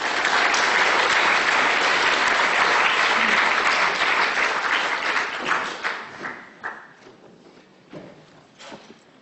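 A lecture-hall audience claps to welcome a speaker before a climate change talk. The applause is dense and steady at first, then thins into scattered claps and fades out.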